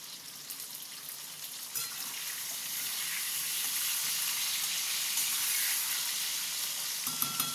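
Potatoes fry in a covered pan with a steady, fairly loud sizzle that swells slightly through the middle and carries on alone to the end.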